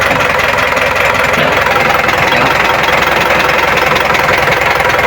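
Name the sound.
overhauled truck diesel engine idling (Isuzu Elf / L300)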